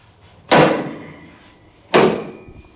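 Heavy steel door of a 1973 Oldsmobile Cutlass with rebuilt hinges and roller detent swinging shut twice, each a loud close solid slam fading out, the second about a second and a half after the first, with no talk.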